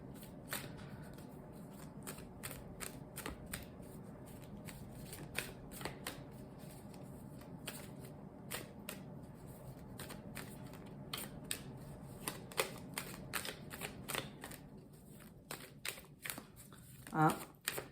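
A hard-boxed oracle card deck is shuffled for a reading, giving repeated crisp riffling and snapping card sounds close by, with quieter stretches between bursts and a brief louder clatter near the end.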